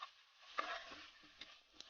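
Pasta stir-fry with bouillon cubes frying in a pan, giving a steady soft sizzle with a few brief scraping stir sounds, close and alone.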